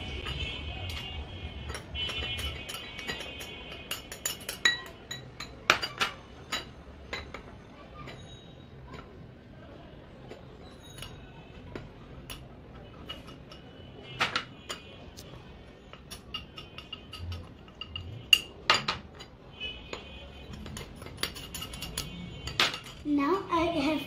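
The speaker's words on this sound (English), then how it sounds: "we have to mix the dry ingredients" A spoon clinks against a mug while mixing the dry mug cake ingredients, flour and sugar, in repeated light taps and scrapes over soft kitchen background noise.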